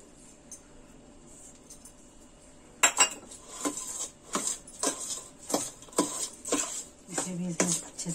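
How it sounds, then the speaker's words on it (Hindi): A dry fruit laddoo mixture being mixed with desi ghee in a metal vessel, with a quiet start followed by a run of sharp, regular clinking scrapes of a spoon against the pot while someone talks. "इसको अच्छे से मिक्स कर लेती हूँ, और ये देखिए अब मैं इसमें डाल रही हूँ देसी घी।"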